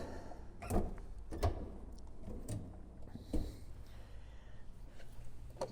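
A drawer rolls open on a Matco roll-around tool cart in a shop, making faint sliding rattles and several soft clunks spaced through a quiet room.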